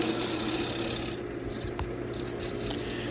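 Lathe chisel cutting a tenon in rotten sweetgum wood held in a chuck, a steady broadband scraping hiss over the lathe's constant low hum, continuous and close for the whole stretch with no talking.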